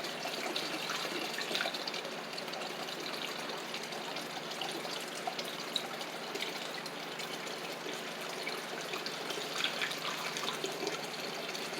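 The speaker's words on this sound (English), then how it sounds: "And then we're going to fill it all up with water." Tap water runs steadily into a bottle for about twelve seconds, a continuous close gushing and trickling with no voices.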